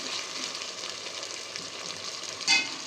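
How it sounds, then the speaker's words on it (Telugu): Chicken sizzles and fries in hot oil with a steady, dense crackle, near and even throughout, then a short clatter close to the end; no one speaks. "చికెన్ ఒక 5 మినిట్స్ అయినా ఆయిల్లో అలా వేగుతూ ఉంటే"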